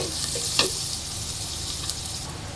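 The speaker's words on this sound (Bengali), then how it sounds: "আমার পেঁয়াজটা ভাজা হয়ে আসছে।" Chopped onion frying in a pan with cloves, bay leaf and cinnamon, a continuous close sizzle with a couple of brief louder spits and stirring scrapes.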